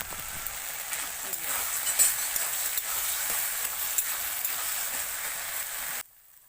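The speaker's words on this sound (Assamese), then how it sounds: "ইয়াতে মছলা দি দিলোঁ, সেইকাৰণে ভালকৈ লৰাই আছোঁ" Taro leaf curry with added spices stirred and sizzling in a pan, a continuous close hiss with scraping strokes that runs for several seconds, then cuts off abruptly.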